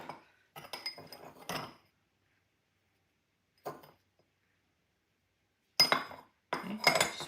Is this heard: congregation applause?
no